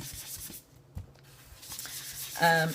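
Soft, close rubbing and scraping of paper edges in short strokes, quiet with brief pauses, ending in a louder squeaky scrape.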